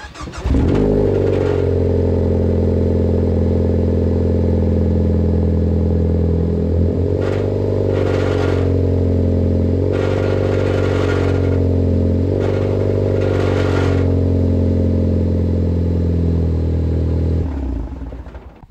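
A Ford Focus ST engine idles and revs in a few bursts, a low steady drone with metallic clattering from the exhaust rattling against the heat shield that swells each time the engine is revved.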